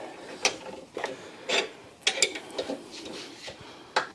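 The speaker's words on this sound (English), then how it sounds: "we're going to use our specially designed torque wrench to do these" Torque wrench tightening engine mount bolts, a series of short ratcheting clicks and scrapes at irregular intervals, close and fairly quiet.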